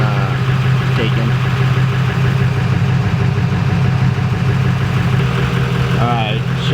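A SEMA build car sits running at a steady, even idle, its engine rumbling loud and constant throughout, with a couple of brief voice sounds over it.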